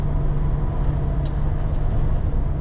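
A Renault car driving on a road gives a steady loud interior rumble of engine and tyres with a constant low hum, heard alone.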